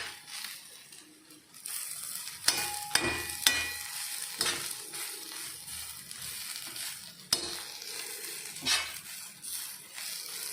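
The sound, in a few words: xacuti masala ingredients roasting in a pan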